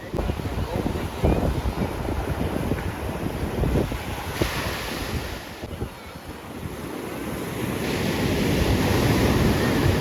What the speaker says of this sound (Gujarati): કેમ મોજા ભાંગે બોલો